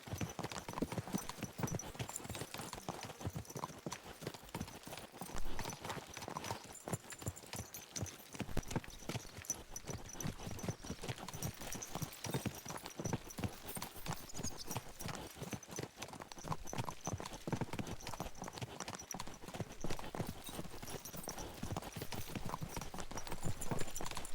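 Horse hooves clip-clop in a steady, continuous rhythm at close range, with a faint background hum behind them, in the video game Kingdom Come: Deliverance II.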